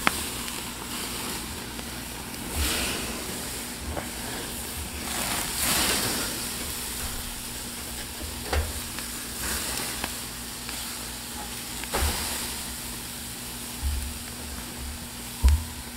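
Marinated carne asada steaks sizzle on a grill in a steady, hissing crackle, with a few soft thuds and clanks as the meat is flipped, and no talking.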